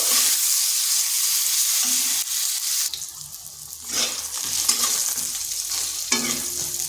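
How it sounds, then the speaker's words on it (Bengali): Eggplant pieces with salt and turmeric frying in oil in a pan for a Bengali rohu fish curry, a close sizzle broken by several bursts of spatula stirring and scraping. "বেগুনগুলোকে একটু ভেজে নেব"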